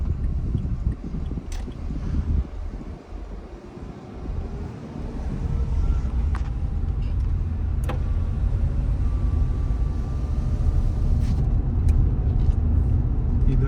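Steady engine and road noise fill the cabin of an automatic-transmission car on a driving test route, a constant low rumble with occasional faint clicks and no talking.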